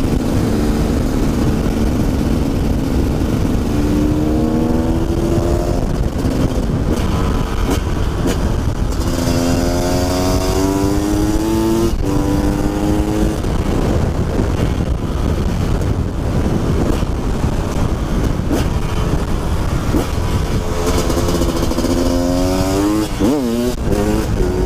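A supermoto motorcycle engine revs up in a few rising bursts, loud and close, with heavy wind buffeting the microphone throughout and no talking.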